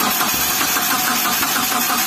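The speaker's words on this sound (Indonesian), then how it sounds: "kalau dia disemprot pakai bensin mesin langsung nyala" A Mitsubishi Colt SS engine with low compression catches after a spray of petrol and runs roughly, a loud continuous mid-range rumble with a knocking edge, close by and without talk.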